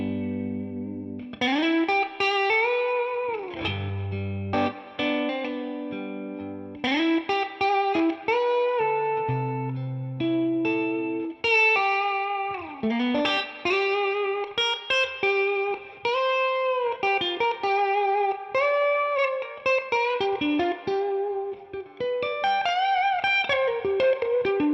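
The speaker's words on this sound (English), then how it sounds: "Middle position, let's hear it." A James Tyler Studio Elite HD Alien Guano electric guitar on the middle pickup plays a melodic run of clean, slightly compressed notes and chords, with a chorus-like shimmer, and no voices.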